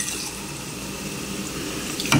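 Water pours steadily from a tap onto vegetables being prepared in a kitchen, a soft continuous running stream with a brief louder splash at the end.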